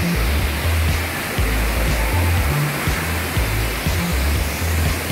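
La Chorrera waterfall at Paicol, Huila, Colombia, running swollen and high, gives a constant, loud, rushing roar of falling water with no break throughout.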